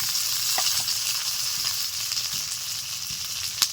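Taro pieces with slit green chillies fry in hot oil in a pan just used for fish, giving a continuous close sizzle with light crackles and one sharp pop near the end.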